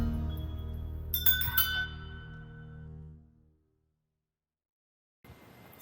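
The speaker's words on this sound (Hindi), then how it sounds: "सिर्फ घंटियों की आवाज़ आ रही है" At Tadkeshwar Mahadev temple in Lansdowne, Uttarakhand, where thousands of offered bells hang, a single bright metallic ring sounds close by and fades over a few seconds into near silence before faint ambience returns.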